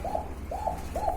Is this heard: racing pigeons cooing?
yes